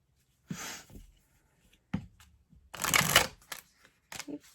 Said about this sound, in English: This deck likes to be a little bit persnickety at times about being shuffled.